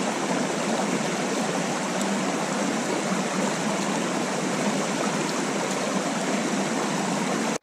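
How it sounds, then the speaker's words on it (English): A mountain stream in the Blue Mountains, Australia, rushing steadily over rocks, with a dense, continuous broadband wash of water at close range and no pauses or talk. "I'm going to drink this water straight from the stream"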